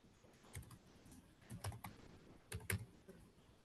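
Computer keyboard keys tapped during a password entry, coming in short irregular clusters of clicks with brief pauses between them, close and fairly quiet with no voices.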